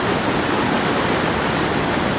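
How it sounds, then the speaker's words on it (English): A flooded river near Denbigh, North Wales, bursts its banks and pours across fields in a loud, continuous rushing roar of water, steady and close throughout. "the river now has clearly burst its banks and is beginning to engulf the"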